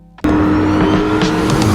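A 2027 Corvette Grand Sport with a V8 bursts in abruptly with a loud, sustained engine roar and tire noise, close and continuous after a quiet start, with no talk.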